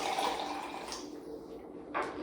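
Hot, just-boiled water pours into a French press, a steady splashing fill that stays fairly loud throughout with a brief renewed gush near the end.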